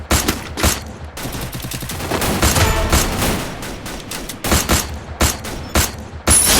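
Rapid automatic gunfire in the Free Fire video game crackles loud and close, with dense bursts and a sustained stretch of sprayed shots, then scattered separate shots near the end.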